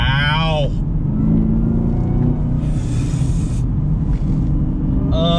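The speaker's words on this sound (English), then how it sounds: "Love the supercharger whine. Can't beat that whatsoever." Supercharged Chevrolet Camaro ZL1 1LE accelerating hard, a loud steady engine roar and rumble sustained throughout, with a high supercharger whine and short bursts of talk over it.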